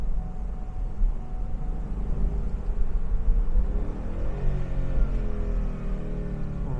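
A 2017 Ford Mustang GT Premium's engine drones steadily from the cabin during a downshift, with a rising tone as revs climb midway over continuous road rumble and no talking.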